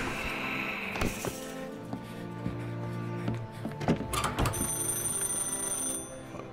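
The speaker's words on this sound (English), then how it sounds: "Don't pick up the phone." A telephone rings in the Mafia Definitive Edition video game, its bell repeating in bursts over steady in-game background sound.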